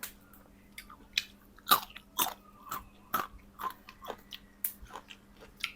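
Someone chewing raw beef liver at close range, with a run of wet, crunchy bites and smacking chews spaced irregularly over quiet background.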